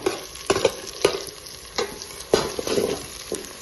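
Onion, green chili and freshly added potato fry in a pan, with a steady sizzle under a series of sharp scraping stirs spaced about half a second to a second apart, close and moderately loud.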